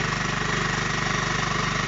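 A soil boring test machine's engine runs steadily nearby, a loud, even, throbbing chug with a fast regular pulse and no voices.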